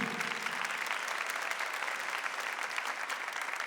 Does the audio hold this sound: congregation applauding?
yes